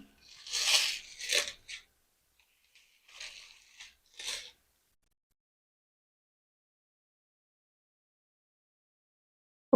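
Raw rice pours onto a leaf in two short bursts, a close, gritty rushing patter that cuts off abruptly, followed by silence.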